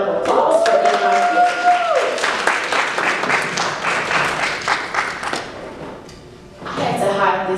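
An audience at an awards event claps in a loud burst that thins out, with talking and cheering mixed in and a swell of renewed clapping near the end.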